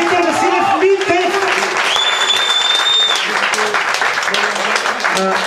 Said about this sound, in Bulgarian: Може ли още ме нещо аплодисменти?